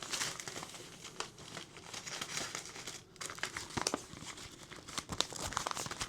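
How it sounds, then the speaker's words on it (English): Sheet of paper being folded and slid into a plain white envelope, giving a steady run of close, crisp crinkles and rustles with sharper snaps near the end. "So then I'll just fold it up, put it in the envelope"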